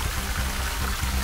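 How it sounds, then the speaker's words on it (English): Running water pours and trickles steadily at close range, a constant broadband rush with a low rumble and no voices over it, as a hiker finally finds a water source to wash with. "Finally we found water."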